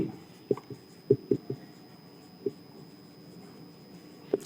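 Chalk or marker strokes on a classroom board come in short, separate bursts, a handful of distinct taps and scratches spaced irregularly over a quiet background.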